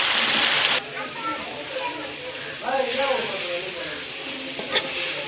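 Drumstick leaves sautéed in a pan for a poriyal, a steady soft sizzle and hiss with stirring scrapes throughout, a louder burst at the start, while someone talks over the cooking.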